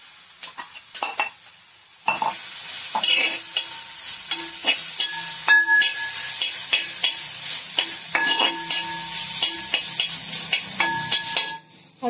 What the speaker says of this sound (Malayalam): കൊത്തി അരിഞ്ഞു വെച്ച ഇഞ്ചി ഇട്ട് നന്നായി വറുത്തെടുക്കും